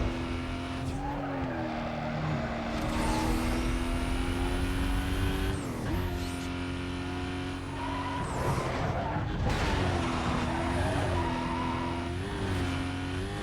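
Engine revving and tire squeal from a car racing in Need for Speed: Most Wanted (2005, PS2), with loud, continuous motor whine rising and falling through gear shifts and brief skids, no talk.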